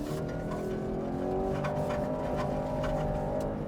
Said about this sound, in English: throttle, throttle, throttle, stab the throttle